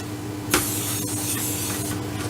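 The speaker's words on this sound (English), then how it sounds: "I'm just going to spray the corner here" Cooking spray hisses onto the corner and edge of a parchment-lined baking pan for white chocolate blondies, a short close burst that settles into a steady hiss under a constant background hum.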